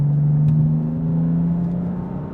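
BMW M4 Competition accelerating under light throttle, its engine holding a steady, loud, close droning note that rises slightly in pitch over a couple of seconds, with a brief high click early on.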